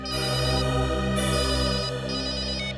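A mobile phone ringtone goes off during a scene in the Hindi crime drama CID, a loud, continuous electronic melody playing on its own for about three seconds.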